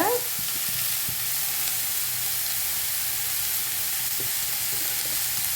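Chopped bottle gourd with rock salt sizzling in a pan, a dense continuous frying hiss held steady throughout, close and fairly loud, with a few faint clinks and stirring touches.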